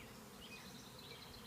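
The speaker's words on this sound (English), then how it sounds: "you stand in a swarm, you get bees landing all over you" A honeybee swarm buzzes densely and steadily around a beekeeper outdoors, a close, continuous drone of many wings with no voices.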